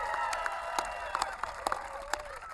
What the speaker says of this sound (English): Let's give a round of applause to the President of the United States.